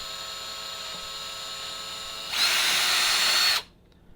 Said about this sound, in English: The weight of the drill is enough to penetrate the plexiglass.